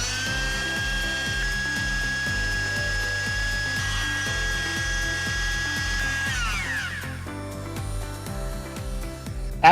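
A plastic extrusion welding gun whirs with a high, steady motor whine over a rhythmic low chugging, then the pitch sags and the tone shifts near the end, close and without talk.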